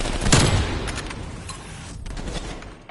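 Gunfire in the video game Call of Duty: Cold War, with a burst of rapid shots and a heavy crack up front, then continuing scattered fire and booms under a dense, noisy battle backdrop.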